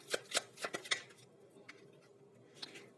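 Tarot cards are handled and shuffled in a brief burst of quick, close papery flicks and taps, followed by a few softer card sounds.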